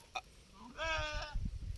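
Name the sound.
goat bleating on a goat farm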